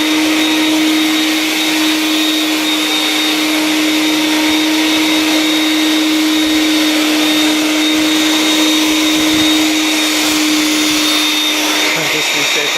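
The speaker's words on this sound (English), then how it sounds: "Surprisingly, it's an amazing cleaner on carpets with just straight suction." A Vax 221-07 wet/dry vacuum cleaner runs on straight suction over carpet with a loud, constant motor whine and rushing airflow. It holds steady throughout, up close, with no pauses.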